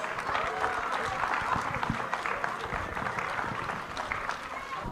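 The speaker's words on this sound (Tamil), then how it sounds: "பலத்த கைத்தட்டல் கொடுங்க குழந்தைங்க" Steady applause from an audience at a Tamil school prize-giving ceremony as children receive trophies, sustained clapping filling the whole stretch with crowd noise beneath.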